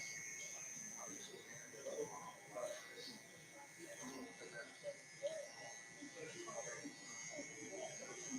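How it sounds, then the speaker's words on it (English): Electric hair clippers hum steadily with the lever fully open during a fade haircut, a faint high buzz running throughout with soft rustling and small cutting noises over it. "we're going to have our lever all the way open on our clipper."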